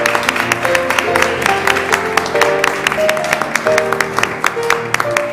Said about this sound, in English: celebrate these new members with joy and applause